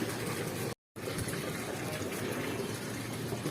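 Water is filled into jugs as a steady, close gushing pour that runs almost continuously, broken by one brief silent gap early on.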